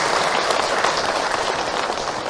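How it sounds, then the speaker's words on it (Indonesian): An audience at an Islamic talk breaks into steady, dense applause for a person who asked a question, a continuous wash of many hands clapping close by with no break. "Tepuk tangan buat beliau yang bertanya"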